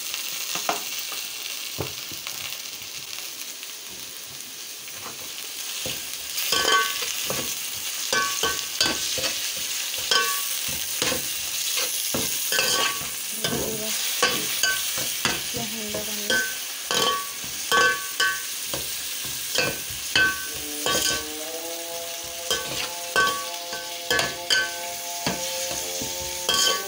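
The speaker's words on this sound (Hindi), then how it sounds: "चिकन को डाल दिया प्याज में, उसको मैं थोड़ा सा भूनूंगी" Chicken pieces fry with onions in a pan, a continuous sizzle broken by frequent scraping stirs and clatters that grow busier over time, with music tones entering near the end.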